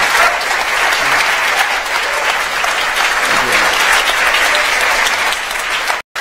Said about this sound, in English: So one more round of applause for our candidates.